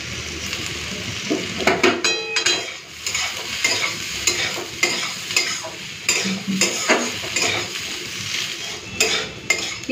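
Onion sizzles in a pan with bitter gourd and potato as a spatula stirs, scraping and clinking against the metal in irregular bursts over a steady frying hiss; nobody talks.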